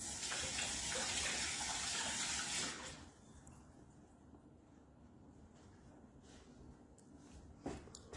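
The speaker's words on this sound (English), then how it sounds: "I'm going to go wash my hands." Hands being washed under a running tap while kielbasa bites heat in a pan, a loud steady rush of water for about three seconds that then cuts off, leaving a low hiss and faint clatter.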